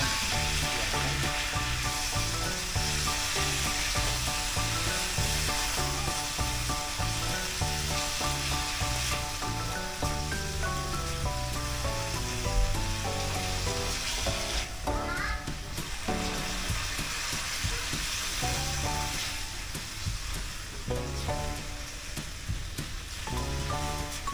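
Vegetables stir-fry in a hot pan with steady, dense sizzling, broken by scraping and tossing as they are mixed. The frying sound is loud and continuous, with music playing over it.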